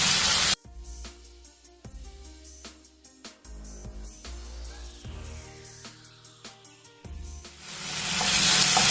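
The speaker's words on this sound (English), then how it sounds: "Now I'm going to allow these tomatoes to cook till they turn soft." Thinly sliced tomato cooking down in a pan for an Indian-style boiled egg masala, giving a steady soft sizzle and hiss with scattered faint clinks, swelling louder toward the end, with no talking.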